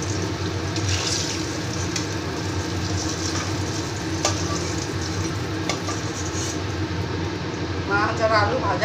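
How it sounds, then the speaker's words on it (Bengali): Fish and potato pieces fry in hot oil for a Bengali fish curry with a steady, even sizzle throughout, and a voice speaks briefly near the end. "মাছ আর আলু ভাজা হয়ে গেছে ভালো।"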